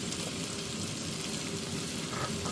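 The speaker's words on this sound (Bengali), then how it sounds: "পেঁয়াজ কুচিটার সাথে গরম মশলাটা আমার ভাজা হবে" Whole garam masala (bay leaves, cinnamon, cardamom, cloves, cubeb and black peppercorns) fries with chopped onion in oil for a chicken curry, making a soft, even sizzle throughout.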